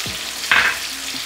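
Sliced ginger dropped into hot oil in a karahi alongside potatoes, a brief loud burst of sizzling over a steady frying hiss, with a faint clink of a utensil and no talk.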